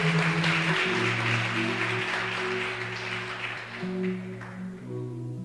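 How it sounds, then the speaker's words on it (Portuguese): Church congregation applauding at a worship service, a broad wash of clapping that fades slightly over several seconds, with sustained organ or keyboard chords playing underneath. "Você pode aplaudir o nome do Senhor?"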